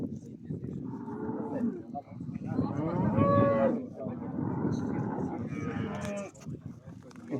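Cattle at a bull market moo in several loud, drawn-out calls close by, one after another over a steady crowd murmur.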